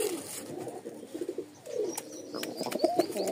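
Pigeons of a light-coloured breed coo in a low, throaty chorus of repeated rolling calls, fairly close and continuous, with a few faint chirps above and no one speaking.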